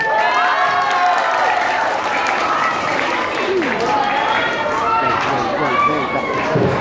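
An audience at a parish catechism event in Vietnam applauds for a children's welcome dance, sustained clapping and crowd noise with an announcer talking over it throughout.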